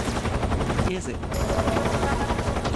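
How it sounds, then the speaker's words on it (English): Helicopter in the video game Metal Gear Solid 3, a rapid rotor chop with bursts of gunfire mixed in, fairly loud and close. "As soon as that helicopter comes into view."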